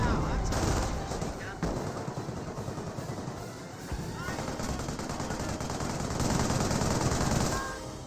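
MG42 machine gun bursts in the World War II strategy game Company of Heroes, dense rattling gunfire with battle noise continuing throughout at steady loudness, with a voice present.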